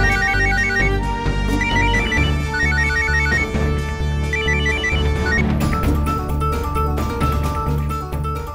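A telephone ringtone plays a loud, repeating electronic melody close by, cycling through its phrase several times without any voices.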